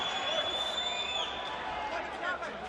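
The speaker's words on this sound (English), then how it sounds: "the crowd are cheering every time Simpson throws" A boxing crowd at a WBC Silver title fight between John Simpson and Choi Tseveenpurev, a steady, distant roar of cheering and chatter filling the arena, with a commentator speaking over it.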